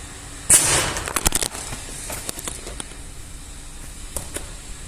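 A homemade air gun built from pipe and a bottle fires a nail-made projectile in one sharp, loud pop, followed by scattered clicks and small knocks as it settles.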